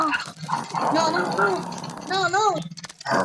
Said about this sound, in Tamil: இங்க நாய் விட்டுருக்கு.